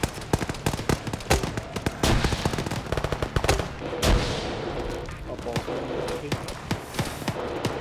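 Dense gunfire in the military shooter game Arma 3, with rapid automatic bursts and sharp single shots overlapping throughout and a heavier blast near the middle. The sound is loud and continuous, with faint voices occasionally under it.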